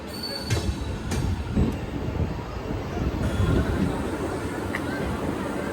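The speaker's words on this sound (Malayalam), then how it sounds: "നമ്മളിപ്പം കന്യാകുമാരി റെയിൽവേ സ്റ്റേഷനിൽ എത്തിയിരിക്കുകയാണ്" Steady rumble of a train at the Kanniyakumari railway station platform, with rail noise and faint clanks over a busy low hum.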